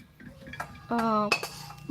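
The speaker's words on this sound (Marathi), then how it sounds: "आई दुसऱ्या कढईमध्ये त्याला काढून घेत आहे" Metal kadhai pots clink and clank as a wheat-flour barfi mixture is transferred from one kadhai to another, a few sharp close metallic knocks with one brief ringing tone.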